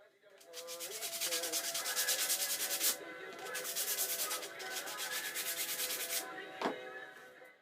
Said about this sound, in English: So after doing some sanding